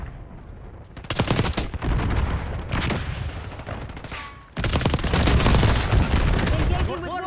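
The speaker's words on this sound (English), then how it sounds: "Firing war machine. Using war machine." War Machine grenade launcher in Black Ops 6 multiplayer firing repeatedly, with dense loud booming bursts and rapid gunfire-like volleys, a brief lull, then a second heavy barrage, close up amid battle noise and voices.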